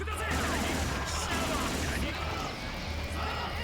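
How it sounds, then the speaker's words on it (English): Tommy gun in JoJo's All Star Battle R firing a continuous rapid stream of shots, steady and dense, with a voice talking faintly underneath. "it's just a Tommy gun"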